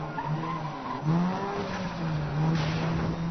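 A car in the Need for Speed Most Wanted (2012) video game roars along at speed, its tires squealing as it brakes and skids, the engine droning loudly throughout with no talking.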